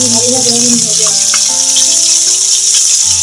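Potatoes frying in a pan give a loud, steady sizzling hiss that runs unbroken through the clip, with faint voices underneath.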